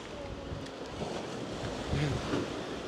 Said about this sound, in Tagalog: Ang lakas ng hampas ng alon, no?